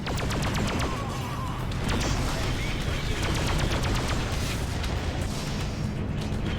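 Missiles firing in the space game Freelancer, with a dense stream of rapid launches and pops over a constant roaring engine-like din, steady and loud throughout.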